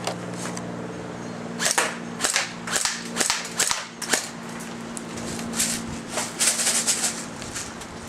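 An Airsoft GI custom G4A3 electric blowback AEG firing on semi-auto, a series of close, loud, sharp cracks with mechanical clacks, some shots spaced apart and others in quick pairs and bursts.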